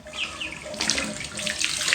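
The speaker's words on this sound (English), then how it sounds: "So I'm going to go ahead and put this little strainer in, let the water out" Water drains out through a small strainer from a duckling and chick brooder, running and splashing like a tap into a sink. The gurgling stream is close and fairly loud and grows busier partway through.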